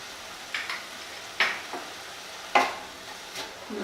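Prawns seasoned with salt, chili flakes and oregano being stirred in a pan, a few scraping strokes of the spatula with soft sizzling between them, close and moderately loud, no speech.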